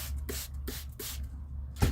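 A spray bottle mists coffee dye onto paper in several short, soft hissing bursts at an uneven pace, close and fairly quiet against a low steady background hum.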